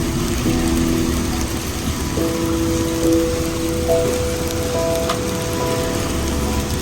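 Hail pelts down in a dense, steady patter of hard little impacts, close and even throughout, with a faint tonal hum running underneath.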